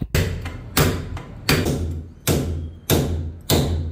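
Old iron door being taken out during a home remodel: six sharp, loud metallic knocks and thuds spaced roughly every half-second to second, each ringing briefly before the next strike, with no talking.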